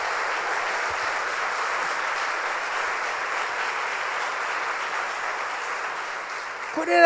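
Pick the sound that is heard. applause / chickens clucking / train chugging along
applause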